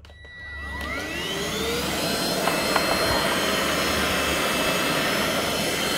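A 120W 2-in-1 cordless vacuum cleaner spins up into a loud, steady high-pitched whine with a rising motor tone, running close and continuous with no talking.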